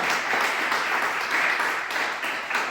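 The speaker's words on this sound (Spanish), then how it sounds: "¿Le puede dar un aplauso a Jesucristo?" Church congregation applauding steadily and loudly throughout, a dense wash of many hands clapping with no pauses, mid-distance.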